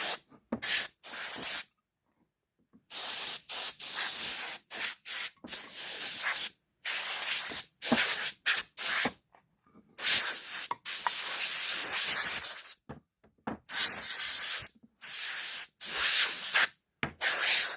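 Compressed air blowing dust off freshly sanded beech wood, loud close bursts of hissing air in short repeated blasts of varying length, separated by brief silences.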